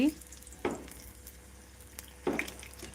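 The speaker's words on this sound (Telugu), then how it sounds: "మిరపకాయ ఫ్రై చేస్తే ఇలా ఫ్రై అవ్వాలి" Green chillies fry in hot oil for bajji, giving a soft, steady sizzle near the pan, broken by two brief scraping stirs, with no talking.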